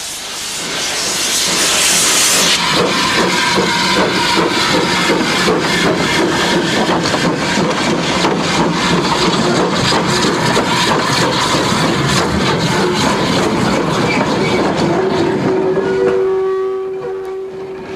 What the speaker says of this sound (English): A former Bowes Railway locomotive is used on a shuttle service from the railway's headquarters to Blackham's Hill Engine, the top of the incline.